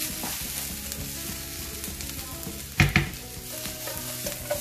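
Onions sizzle and fry in a pan with paprika added, a steady close crackle broken by a couple of louder scraping stirs near the middle.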